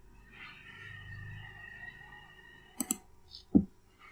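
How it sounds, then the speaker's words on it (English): A computer mouse clicks while someone works in ServiceNow: a quiet stretch of faint background hum, then two sharp, close clicks in quick succession, followed by another single click near the end. "Now let me click on new."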